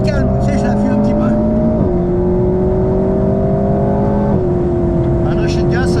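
A Ferrari engine runs steadily on a race track, its droning harmonics holding pitch with small stepped shifts in revs as the throttle is eased, loud and continuous throughout.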